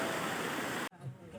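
A forest waterfall at Gajpalla in Gariyaband, Chhattisgarh, roars as steady broadband rushing water, close and loud, before cutting abruptly to a quieter stretch of softer ambient noise.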